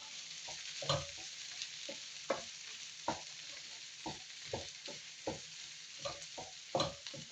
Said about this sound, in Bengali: এখন আমি নেড়ে নিচ্ছি, কিছুক্ষণ নেড়ে এখন নামিয়ে নেবো